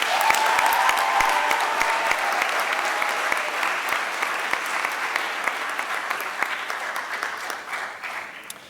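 Audience applause rises at a high school math awards ceremony as team members stand, a steady, full wash of clapping that carries on with scattered sharp individual claps and slowly tapers toward the end.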